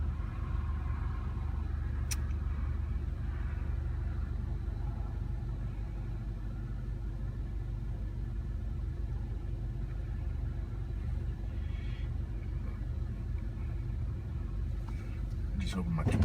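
A manual-transmission car idles while stopped in a long traffic line, a low steady engine rumble with faint passing sounds around it.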